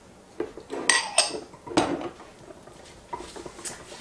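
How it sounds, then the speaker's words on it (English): Chili powder and cumin are stirred together in a bowl, with a handful of sharp clinks and scrapes of a utensil against the dish spaced unevenly over a quiet background. The sounds are close, and no one speaks. "I have a tablespoon of chili powder and a tablespoon of cumin, and we're going to mix those together"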